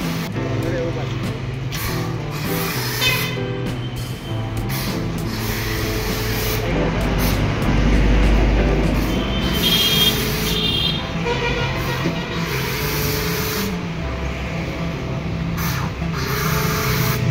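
A motorcycle gets washed with a cold water spray, a continuous hissing jet rising and falling against the bike for many seconds while other noises and occasional voices sound nearby.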